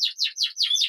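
A variegated buff male canary chirps rapidly and close by, five quick descending trills in a row.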